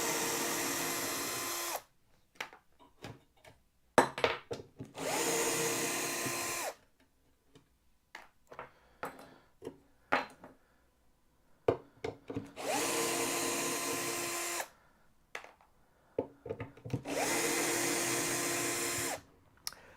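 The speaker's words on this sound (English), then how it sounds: "Right, everything's off that board now, so we can start unscrewing the brackets." Power drill unscrewing brackets from a board, running in four whirring bursts of a couple of seconds each, with clicks and clatter of handling between them.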